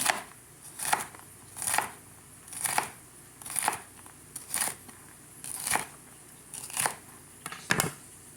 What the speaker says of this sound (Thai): ถั่วฝักยาวแล้วก็เอามาหั่นเป็นฝอยๆนะคะ